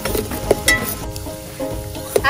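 Onions sizzling in a frying pan as cream is added, a steady close crackle and hiss with a few soft clinks of a utensil stirring against the pan.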